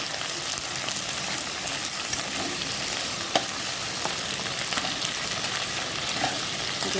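Potatoes, capsicum, carrots and beans frying in a pan give a steady, loud, close sizzle with occasional stirring scrapes throughout.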